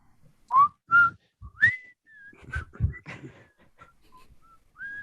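Someone whistles a short tune, clear melodic notes rising and falling with brief pauses between phrases.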